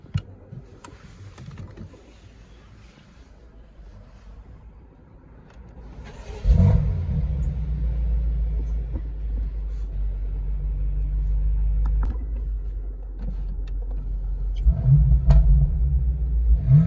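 A BMW M8 Competition starts out quiet with faint clicks, then its engine and exhaust rise into a deep, loud rumble while driving, holding steady and surging again near the end.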